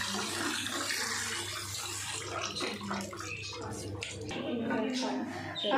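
Water pours and splashes steadily as boiled macaroni is drained and rinsed with cold water, close by, with a voice talking over it.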